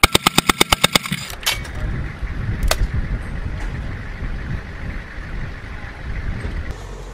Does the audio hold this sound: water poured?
no